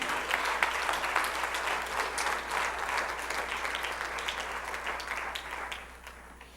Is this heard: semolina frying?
no